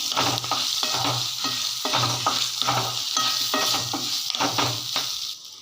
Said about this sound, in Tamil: இந்த எண்ணெயிலேயே மிளகா நல்லா பொரியட்டும்